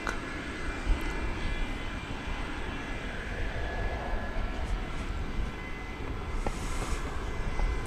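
A plane passes over the runway at DFW Airport after dark, a steady broad engine roar holding at moderate loudness over distant airport rumble.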